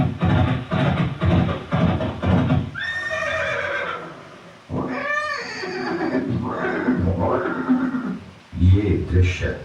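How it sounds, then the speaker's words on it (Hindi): A horse neighs loudly in a Chetak horse diorama show at Haldi Ghati, Udaipur, with whinnies and hoof clip-clops mixed among a narrator's Hindi commentary. "ये दृश्य महाराणा प्रताप और सुविख्यात स्वामी भक्त घोड़े चेतक के अंतिम मिलन का है।"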